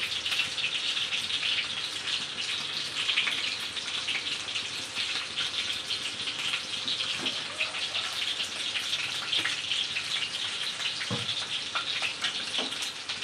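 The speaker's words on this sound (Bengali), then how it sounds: "এই দেখেন তেল দিচ্ছি" Cooking oil is poured into a pan to start a mutton curry of tender young goat meat, giving a steady, faint hiss and trickle with occasional small sizzling pops throughout.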